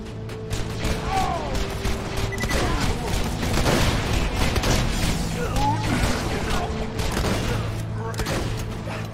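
Gunfire and automated turret shots from Borderlands 2 crackle in dense, continuous bursts across the whole stretch, loud and busy, with game mechanisms clanking and occasional booms mixed in.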